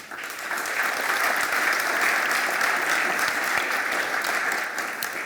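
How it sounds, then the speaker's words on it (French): An audience at a round-table discussion applauds the panel speakers, a full, even burst of many hands clapping that swells in, holds steady, and tapers slightly at the end. "Je pense qu'on peut vous applaudir"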